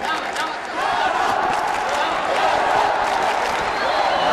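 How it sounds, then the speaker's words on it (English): A boxing arena crowd in Trabzon roars in sustained support of the home Turkish boxer, a dense, continuous wall of cheering and shouting throughout. "There goes the crowd giving support to the Turkish team, as they are the home team here in Trabzon."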